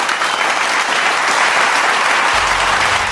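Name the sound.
auditorium audience applauding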